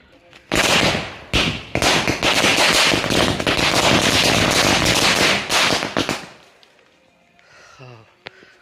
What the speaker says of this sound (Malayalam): ഗുണ്ടാണ് നമ്മളിപ്പോൾ പൊട്ടിക്കാൻ പോകുന്നത്